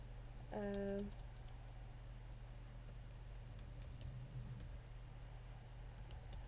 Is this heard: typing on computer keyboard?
yes